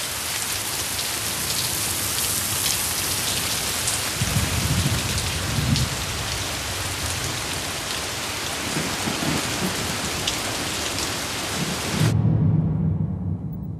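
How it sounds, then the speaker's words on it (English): Heavy rain pours steadily in a dense, constant hiss, with low rumbling swells mixed in, before cutting off abruptly near the end. "first rain began to fall"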